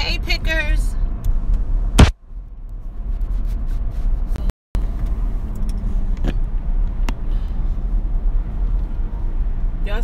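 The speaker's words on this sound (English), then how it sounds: "Y'all see all this traffic?" Steady road traffic rolls across a bridge into Baltimore, heard as a continuous close rumble and tire roar with brief dropouts, and a few faint voices mixed in.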